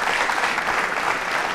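Students and audience at a quiz show held at a technology institute clap loudly and steadily for a correct answer, a dense unbroken burst of applause with little talk.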